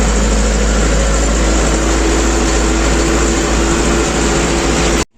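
A DTZ 404.C5 (5404K) tractor engine runs loudly and steadily while pulling a 3x30 plow through damp soil during spring plowing, a continuous close diesel roar that cuts off abruptly at the end.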